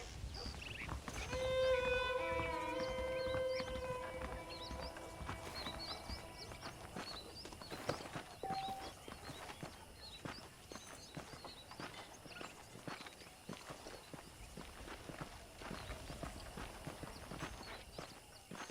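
Horse hooves clip-clop in steady rhythmic steps through a frontier town in Red Dead, quiet and unhurried, with a brief musical tone and faint ambient sounds around them.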